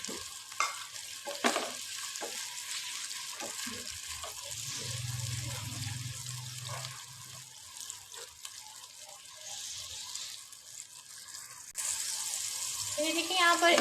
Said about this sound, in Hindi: उसी पैन में हम ये देखिए अब 2 table spoon ginger garlic paste add करेंगे। ठीक है, 1 से 2 मिनट के लिए इसको हम इसमें फ्राई करेंगे।